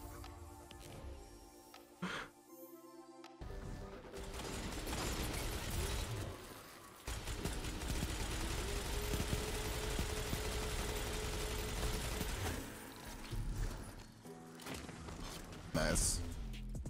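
Sweet Business autocannon in Destiny 2 fires in a long, dense, continuous stream of rapid shots lasting many seconds, with gameplay effects and talk around it before and after the burst.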